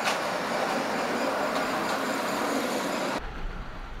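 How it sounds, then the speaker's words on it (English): A slow cargo train hauling corn and cement rolls along a railway in Cambodia, a loud steady rumble and clatter of rail wagons that cuts off abruptly near the end. "Most of the cargo the train transports is corn and cement. The train barely runs at 30 kilometers per hour."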